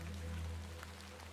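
Rain falls steadily in the point-and-click adventure game The Excavation of Hob's Barrow, a faint, even hiss over a low background hum with no voices.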